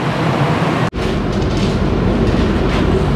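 Interior of the Argo Muria passenger train running on Java, a loud steady rumble of wheels on track with brief rattling, broken by one sharp momentary dropout, no voices.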